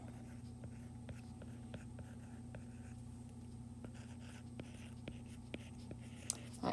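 Notes are written out by hand with faint, close scratching and tapping of pen strokes on paper, irregular and soft against quiet room noise.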